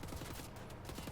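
Gunfire in the first-person shooter Wolfenstein: The New Order, a loud, dense burst of rapid shots filling about a second with continuous crackling reports and no pause.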